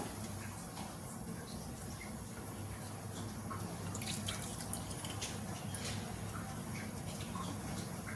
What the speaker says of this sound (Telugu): బిర్యానీ మరగపెట్టుకున్న నీళ్ళు వేస్తున్నాము.